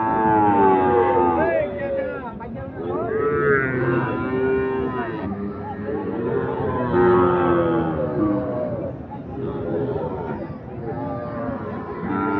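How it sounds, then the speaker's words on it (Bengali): A Sahiwal bull calf at a village cattle market lows repeatedly in long, drawn-out moos, close and fairly loud, while people talk and murmur in the background. "চমৎকার এই সাইওয়াল ষাঁড় বাছুর।"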